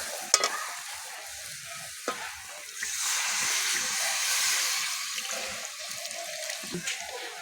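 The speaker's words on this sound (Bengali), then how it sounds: "এবার জল দিয়ে দেবো।" Water pours into a pan of soybean chunks and potato fried with spices, setting off a strong hiss and bubbling sizzle that swells midway and carries on steadily, with a few stirring knocks and no voices.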